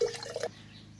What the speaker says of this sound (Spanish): Echamos agua dentro donde está el aceite, como el aceite pesa menos, subirá arriba.